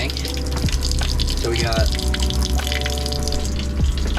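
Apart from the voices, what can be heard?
water draining from open boat faucets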